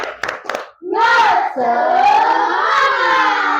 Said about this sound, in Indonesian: Sebelum pulang kita tepuk semangat dulu dong.